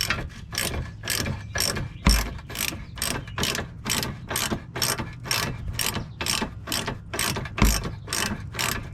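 Rapid, regular ratchet clicking while a screw is turned to lower the control arm on a 2002 Infiniti I35, close and continuous with a couple of heavier knocks.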